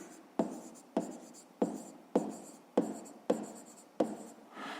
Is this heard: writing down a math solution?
yes